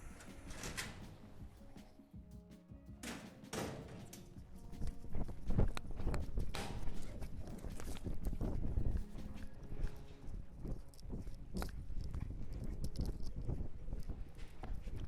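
Hooves of a roping horse clop unevenly on hard ground close by, with rustling, scraping and other stable noises mixed in around them.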